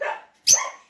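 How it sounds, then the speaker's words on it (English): Pet dogs give two sharp barks close by, a softer one followed by a louder, higher yip that tails off. "Sorry for my dogs, they're all barking."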